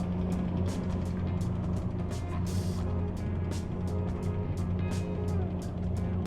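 Cheap race car, an RX, idling and rolling onto the track at Anderson Motor Speedway for hot laps, a steady low engine rumble heard from close by with repeated sharp clicks and thumps over it.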